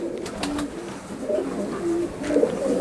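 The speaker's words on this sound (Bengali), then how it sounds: "এই দুইটা হলো আমার গোল্ডেন কবুতর" Golden pigeons cooing in a series of soft, low, throaty calls, near and fairly steady, with a few overlapping coos and no talk.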